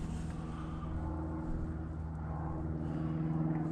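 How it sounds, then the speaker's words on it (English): An airplane flying overhead, a steady low droning engine hum that holds at a moderate distance and swells slightly toward the end, with no talk. "It's an airplane."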